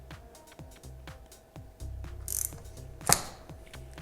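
A part on a Ducati XDiavel motorcycle is tightened by hand tool, giving small clicking ratchet-like mechanical sounds, a low rattling stretch in the middle, and one sharp louder snap near the end, close up with no talking.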